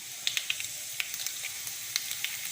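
Steady sizzling of food frying in hot oil until reddish, with scattered sharp crackles and pops over a constant hiss.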